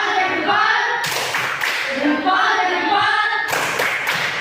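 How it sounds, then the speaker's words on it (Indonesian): A classroom of students performs a patterned 'tepuk salut' clap cheer for a presenting group, with rhythmic bursts of hand claps and thumps mixed with voices joining in close by. "Silakan dulu kita tepuk salut untuk kelompok 3 dulu"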